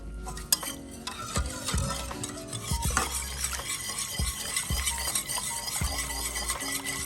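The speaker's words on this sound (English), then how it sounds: "I'm gonna whisk it a little bit more." A whisk stirring sauce in a pot for smothered turkey wings: continuous rhythmic scraping and clinking against the metal, close and steady, over a soft bubbling boil.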